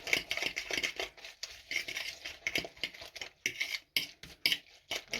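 A spoon clinks and scrapes against a bowl in quick, irregular strokes, mixing in salt and dried garlic, close up, with short pauses between bursts.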